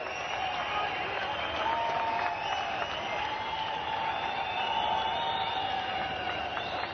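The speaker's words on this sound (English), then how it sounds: "And as you would expect, gets the biggest applause" Crowd applause at a post-match presentation after an India versus Sri Lanka one-day international cricket match, heard as steady, continuous clapping from a large crowd at a moderate distance.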